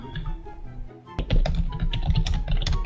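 Rapid clattering keystrokes on a computer keyboard, close and busy, with a brief pause before a denser burst of typing.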